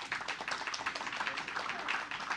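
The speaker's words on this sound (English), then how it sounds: "If I can get a round of applause for" An audience at a career fair claps for a panel, brief uneven applause from a modest crowd heard fairly close, without voices over it.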